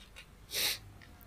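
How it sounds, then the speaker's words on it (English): A single short, breathy sneeze bursts out close and moderately loud amid quiet background noise. "I can't just sneeze once."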